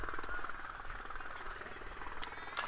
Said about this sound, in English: we got the U.S. Coast Guard doing a flyby for us with their rescue helicopter